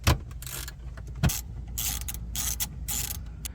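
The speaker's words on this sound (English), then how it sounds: "And now remove the second bolt in the same opening." A ratchet removes a bolt inside the center console of a 2012-2015 Lexus RX350, giving a series of close, light mechanical clicks and short scraping bursts with two sharper knocks, and no talking.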